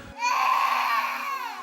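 A baby wails in one sustained, loud cry with a strained, rising pitch, heard close and alone after a brief quiet start.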